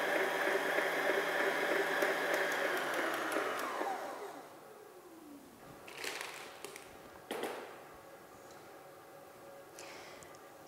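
An electric food mixer blends galette des rois batter in a home kitchen, a loud steady whir for several seconds that then cuts off, leaving a quiet room with a few light clinks and knocks.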